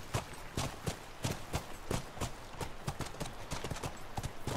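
In The Last of Us, a horse gallops, its hooves clip-clopping in a quick, steady rhythm of sharp, close strikes, alone with no voices.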